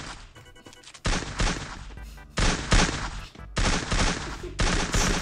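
Video game gunfire comes in several loud, separate bursts of rapid shots, each lasting under a second, with short quieter gaps between them.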